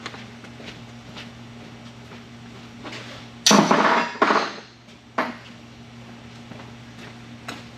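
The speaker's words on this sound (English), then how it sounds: "We'll give it a little whack with a hammer." One loud metallic whack of a hammer on a metal bushing of a Range Rover Classic rings out, a second follows shortly after, then a sharper tap a moment later, all against a steady low hum.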